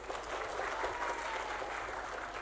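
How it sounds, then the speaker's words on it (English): A conference audience at an English language teaching event claps steadily in a brief, fairly faint burst of applause. "Applause, please."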